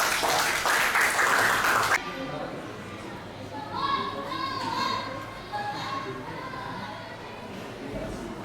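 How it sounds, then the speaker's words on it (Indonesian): Brief applause from a school class for a group ends abruptly, followed by quieter classroom murmur and children's voices with a teacher talking. "sekali lagi tepuk tangan untuk kelompok"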